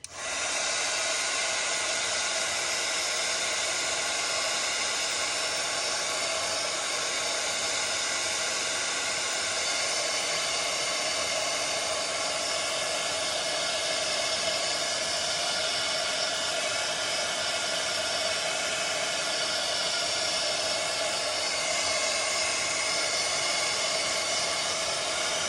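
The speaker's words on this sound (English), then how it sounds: "So now, I'm gonna do this blow dryer thing again." A hair dryer blows hot air to dry paper and fabric journal ephemera, a steady, loud whooshing hiss that holds unchanged for the whole stretch with no talking.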